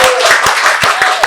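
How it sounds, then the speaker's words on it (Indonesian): A handful of scattered hand claps in a podcast studio at a regional legislative council secretariat, short, sharp and close, irregularly spaced over a brief stretch, with a steady tone and some talk underneath. "Boleh dong teman-teman yang dengerin juga tepuk tangan"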